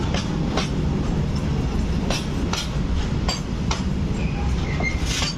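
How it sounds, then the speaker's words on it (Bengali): The Kolkata–Khulna Bandhan Express rolls past close by near the India–Bangladesh border, wheels clattering in a steady rhythmic clack over the rails with a continuous rumbling drone. "কলকাতা খুলনাগামী বন্ধন এক্সপ্রেস ট্রেনও কিন্তু যাতায়াত করছে।"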